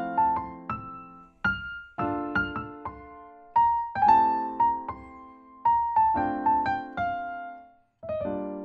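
Solo jazz piano improvising a melodic line with chromatic passing tones, a steady run of single and paired notes with sustained decays, close and clear with no voices.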